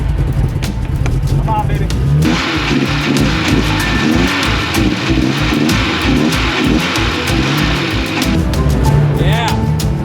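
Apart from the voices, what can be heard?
1982 Porsche 924 Turbo engine cranking and starting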